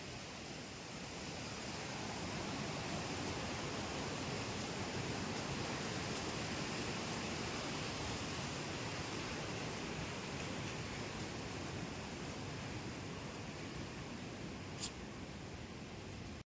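A steady, broad rush of flowing snowmelt water fills the scene continuously, loud and unbroken, like a stream running close by, near Kedarnath.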